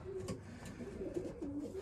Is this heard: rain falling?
no